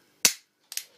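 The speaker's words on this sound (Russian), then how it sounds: "То есть требуется значительное усилие, дабы выстрелить самовзводом." An Umarex Walther P99 9mm P.A.K. gas pistol fired double-action: two sharp, loud cracks about half a second apart, the second slightly weaker and doubled, each decaying quickly into silence.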